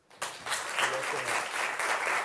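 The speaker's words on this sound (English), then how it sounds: "let's give her a round of applause, please" Applause from an audience at a youth dialogue event on AI, as a guest from a foundation is welcomed. It starts abruptly and carries on steadily, dense and fairly close, with a few voices murmuring underneath.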